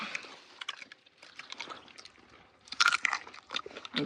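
Fresh jujube fruit picked in a village field is eaten with quiet, close crunchy chewing in irregular bursts, with a livelier flurry of bites near the end.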